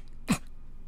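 A person imitates a cat's sneeze with a single short, sharp burst, quiet and isolated against near-silence.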